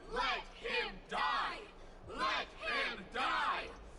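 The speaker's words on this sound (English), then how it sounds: "This crowd is as worse as a pro wrestling crowd." Massed voices bellow and cheer in a video game cutscene, coming in five or six rhythmic surges of chanting crowd noise separated by brief dips.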